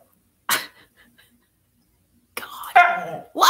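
A pet dog indoors gives one sharp bark, then after a pause a burst of yelps and whimpery barks up close, with a person's voice mixed in near the end.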